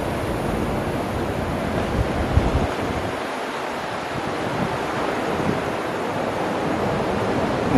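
Sea waves wash in a continuous broad roar along the coast in Pangasinan, steady and fairly close, with wind buffeting the microphone and no voices.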